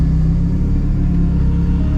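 A modified Nissan S15 rolls along with a steady, loud low engine rumble and drone close up, the note holding even throughout with no talking.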